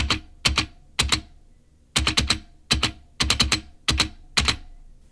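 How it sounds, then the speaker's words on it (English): Keystrokes typed on an IBM Model M keyboard come in quick clattering bursts separated by short pauses, with each loud spacebar press landing as a low, loose thud with a rattle. "the spacebar has a louder and looser tone"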